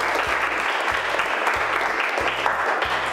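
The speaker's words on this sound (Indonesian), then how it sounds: "Tepuk tangan untuk Anwar" A classroom of vocational high school students in a maths lesson applauds a classmate with steady, dense clapping close by that continues through the whole stretch with no voices on top.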